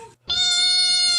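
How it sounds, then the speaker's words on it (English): House cat Spacey gives a short chirp, falls silent for a moment, then launches into a loud, sustained, tonal meow that stays close and steady. "What the fuck is wrong with that cat?"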